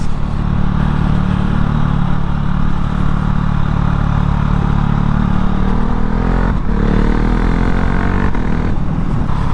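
Husqvarna 701 Vitpilen motorcycle riding at speed, a loud, steady engine drone that holds throughout, with its pitch shifting slightly near the end as the bike slows under engine braking.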